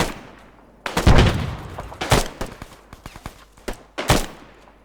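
Gunfire in the military video game ArmA 3, with loud bursts of rapid shots and single cracks spread over several seconds, each trailing off, no talk.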